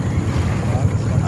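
A boat motor runs on open water in the Pantanal, a loud, constant low drone with wind buffeting the microphone throughout.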